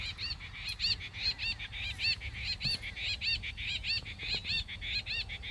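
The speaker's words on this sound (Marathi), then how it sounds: "पाखरं सगळे साईडनं किलबलते" Small birds chirp in quick repeated bursts, a steady chorus of bright tweets carrying over quiet outdoor ambience with no talking.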